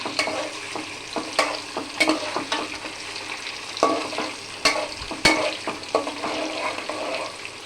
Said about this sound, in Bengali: এলাচ লবঙ্গর পরে আমি একটু কিশমিশ দিয়ে দিচ্ছি তেলে, এটা দিলে একটু ফুলে উঠবে